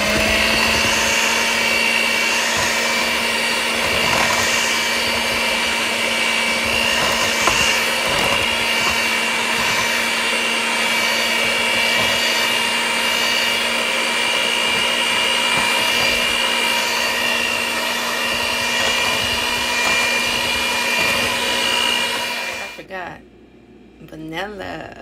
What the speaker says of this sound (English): I'm going to blend this with my blender